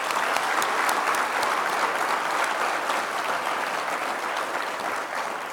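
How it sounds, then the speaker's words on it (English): Large audience at an engineering education conference applauds its award winners, dense sustained clapping that stays even and full before easing slightly at the end. "Let's give another warm round of applause for our award winners this year."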